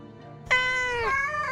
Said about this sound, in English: Pet the cat and leave.